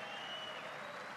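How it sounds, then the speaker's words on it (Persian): Warm applause from Republican members fills a large hall during a Trump speech, a steady even wash of clapping held at moderate level throughout, with no voices standing out. "سخنانی که با تشویق گرم جمهوری خواهان و نگاه‌های سرد دموکرات‌ها همراه شد"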